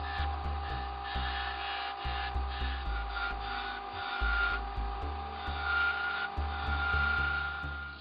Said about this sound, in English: Just using a ball gouge here, I'm just going to put some shape into it now.